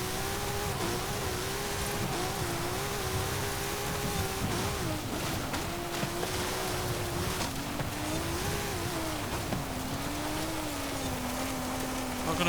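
A 1993 Autozam AZ-1 driven off-road in Forza Horizon 5, its small engine droning steadily with wavering pitch as it revs and shifts, loud and continuous under rushing wind and terrain noise.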